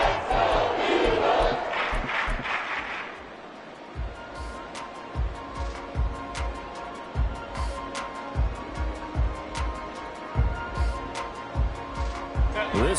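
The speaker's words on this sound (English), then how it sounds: "This crowd doing all they can." A stadium crowd in an EA Sports football video game roars loudly at first, then settles into a steady murmur with rhythmic bursts of chanting and cheering.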